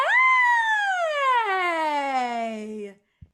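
A single voice glides smoothly from high to low in a sustained siren-like vowel, imitating a siren, then stops abruptly.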